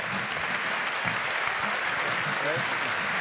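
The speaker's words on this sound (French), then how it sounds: "On peut les applaudir." An audience applauds the three guests at a French health-themed conference day, steady broadband clapping filling the whole stretch with faint voices underneath.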